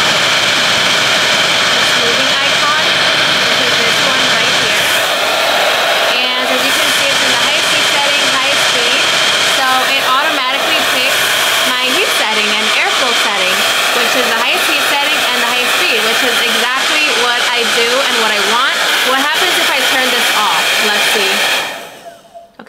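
A T3 Featherweight StyleMax hair dryer runs on its smoothing mode, a loud, steady high-pitched whirring blow with slight wavering as it moves through thick hair, then cutting off abruptly at the end.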